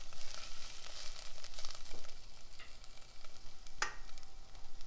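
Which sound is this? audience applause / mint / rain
mint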